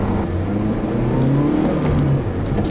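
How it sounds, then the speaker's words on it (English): A 2006 Honda Civic Coupe EX with a manual gearbox revs its engine, giving a loud, steady, racy exhaust note whose pitch climbs and dips over a few seconds with no talking. "The engine just got a really racy exhaust note. Really likes to be revved"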